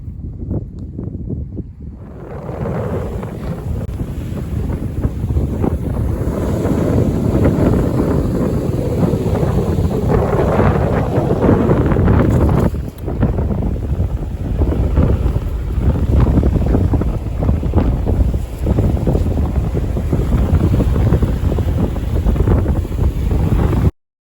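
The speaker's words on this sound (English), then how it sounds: "the wind's gonna be bad today" Strong wind buffets the microphone at a muddy beach, a loud, continuous roaring rumble that starts after a brief quieter moment and holds steady with only a short dip partway through.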